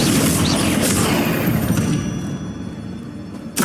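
A Confringo blasting spell goes off in Hogwarts Legacy, a loud, dense rumbling burst that fills the opening moments, tails off into a softer crackling decay, then a second sharp pop near the end.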